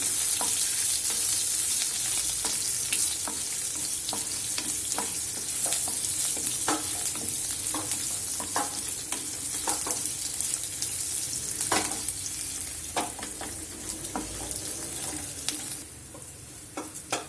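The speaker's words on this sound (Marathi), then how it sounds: "आलं आणि सगळं आणि आता नीट परतून घेऊया" Red pumpkin with ginger sautéing in a pan for an Indian vegetable dish, a steady close sizzle with frequent scraping stir strokes, continuous throughout with no talk, easing slightly near the end.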